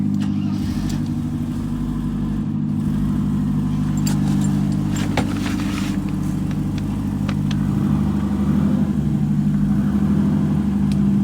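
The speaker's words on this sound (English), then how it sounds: "That engine sounds really smooth," A Mercedes R107 engine idles steadily and smoothly close by, a low continuous hum with occasional faint clicks and distant truck and traffic noise.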